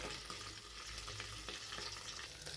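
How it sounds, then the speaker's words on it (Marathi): Okra (bhindi) frying in oil under a lid in a pan, a steady muffled sizzle with soft crackles throughout, close and alone. "आणि भेंडी आपल्याला ही चांगली तेलामध्ये भाजून घ्यायची आहे."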